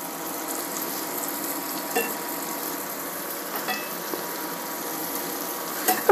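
Shrimp sautéing in butter in a pan gives a steady, soft sizzle throughout, with a few faint utensil taps and a brief clatter near the end, and no voices.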